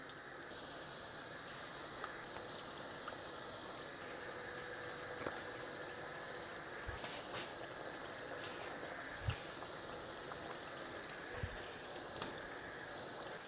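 Chiroti, a delicate Indian sweet, gently frying in oil over very low heat, a faint continuous soft bubbling and hiss with occasional small pops, no voices.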